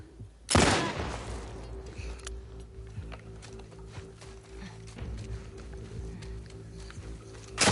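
Gunfire in The Last of Us Part II: one loud, sharp burst of shots near the start, then quieter scattered pops and a steady low hum of combat under the scene.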